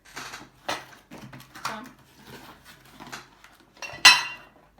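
Paşabahçe glass butter dish handled on a table, giving a run of light clinks and knocks with a sharp bright clink near the end; a voice talks faintly in between.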